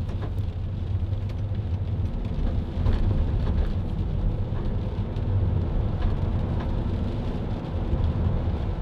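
Rain or sleet pelts a 2016 Mercedes-Benz Vito 119 Bluetec Sport van on a dismal day in Preston, a loud, steady hiss of drops mixed with a low road and engine rumble throughout.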